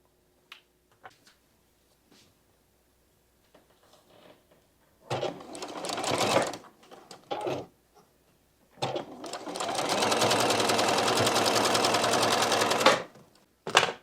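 A sewing machine stitches a bat-themed quilt block, running in two short spurts and then one long steady whir, close and clear, with light handling clicks between runs and no voices.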